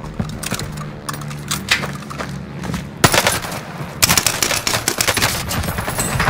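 Rapid, loud video game gunfire rattles in dense bursts of automatic shots, continuous and close throughout, with a brief pause before a heavier volley resumes.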